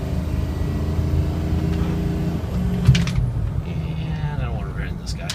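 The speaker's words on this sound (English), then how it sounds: "There's the turbo." The diesel engine of a 2006 Ford F-250 King Ranch 4x4 runs with a steady low, close rumble and a faint turbo whine above it, with one brief knock near the middle.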